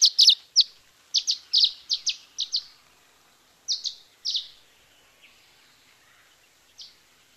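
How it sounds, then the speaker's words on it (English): Shrill cheeps from aerial insect-catching birds over a mountain meadow at Big Bear Lake, coming in quick clusters of two or three sharp high calls, fairly close and clear, with short quiet gaps and a fainter call near the end. "You can also hear them make very shrill cheeps."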